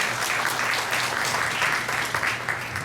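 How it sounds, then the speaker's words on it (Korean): A lecture-hall audience of doctors gives a short burst of steady applause after a diabetes medical lecture, dense continuous clapping with no voice over it. "오늘 좋은 강의해 주신 임태성 원장님께 큰 박수 부탁드리겠습니다."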